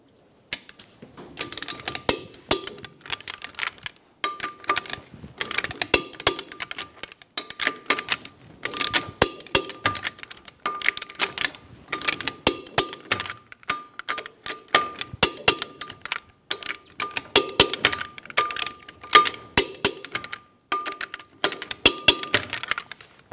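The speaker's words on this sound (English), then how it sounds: "Torque the lug nuts to 94 foot-pounds in a cross pattern." Lug nuts on a 2000-2007 Ford Focus wheel are torqued in a cross pattern, with repeated ratcheting clicks and sharp metallic ticks coming in bursts and short pauses, close and clear, with no talking.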